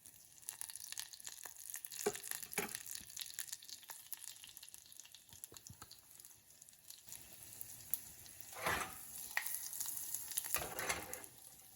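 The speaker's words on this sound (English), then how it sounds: "You just add it in the hot ghee, make the tadka, and you add it to the rasam." Hing and fenugreek crackle and sizzle in hot ghee for a tomato rasam tadka, a faint close frying hiss with scattered pops and stirring clinks.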